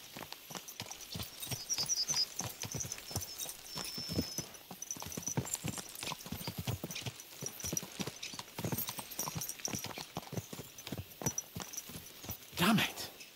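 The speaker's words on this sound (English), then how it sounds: "Let's really spur these horses on, eh?" Horses' hooves clip-clop steadily at a brisk pace in the medieval video game Kingdom Come: Deliverance 2, with a brief neigh near the end and faint voices underneath.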